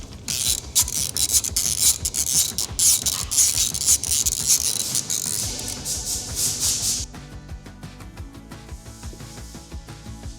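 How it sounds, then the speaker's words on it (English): A ratchet with an extension rapidly clicks as it backs out a 13 mm oil drain bolt on a Beta 250/300 two-stroke dirt bike, a loud fast series of pawl ticks that stops abruptly near the end. "So we're going to use the extension, get in there and go ahead and remove that drain bolt."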